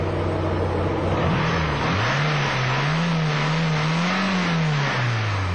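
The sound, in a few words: VW Golf II GTI 1.8 16V engine revving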